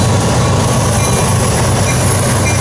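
Westbound manifest freight train rolling past near Ashland, Nebraska, a loud continuous rumble of rail cars and wheels close by, filling the whole stretch with no voices.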